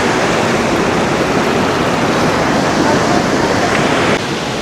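A waterfall roars at the top of a trail in Ourika, Morocco, a dense, steady rush of falling water that stays loud throughout.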